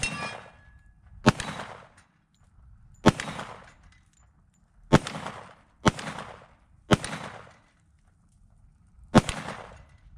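A Tisas 1911 Night Stalker 10mm pistol fires six loud, sharp shots outdoors at dusk, spaced one to two seconds apart, each report ringing briefly before fading, with no talking.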